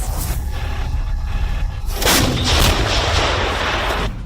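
A 155mm self-propelled howitzer fires NATO-standard shells: muffled low rumbling first, then a loud broad blast about two seconds in that roars and rolls on steadily to the end.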